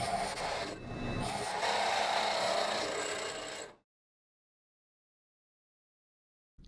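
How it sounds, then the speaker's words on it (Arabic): A rough, grinding rasp of a drill press cutting holes into material, steady and close for a few seconds, then cut off abruptly into silence. "بنروح بقى على الدريل بريس نعمل الثقوب بتاعتنا"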